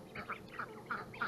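Small ducks quack in a quick series of four nasal calls, close and fairly soft, among a flock of backyard chickens with no talk.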